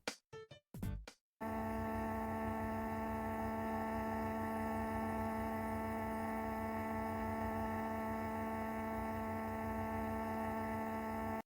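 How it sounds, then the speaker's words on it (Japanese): An Eheim classic VARIO+e 2214 external aquarium filter running at maximum flow on a 60 cm tank gives a steady, faintly high-pitched electric hum that continues unbroken after a few brief knocks at the start. "若干甲高いブーンという音がするので、全く無音とは言えません"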